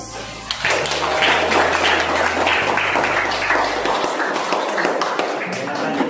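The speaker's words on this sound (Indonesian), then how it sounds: "Kalau tidak, beri aplaus" A classroom audience breaks into a burst of clapping after a group presentation, dense applause that swells quickly, stays steady for several seconds, then thins out toward the end.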